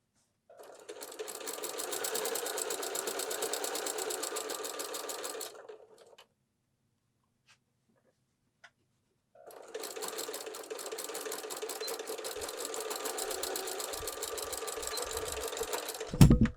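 A sewing machine runs in two long, steady bursts of rapid stitching along the outer pocket edges of a utility waist apron, separated by a few seconds of quiet, close and even.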